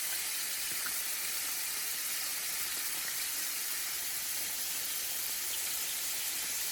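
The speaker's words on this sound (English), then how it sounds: "Sizzling shrimp." Shrimp threaded on skewers pan frying, giving off a steady, dense hiss of sizzling oil that stays even throughout with no pauses.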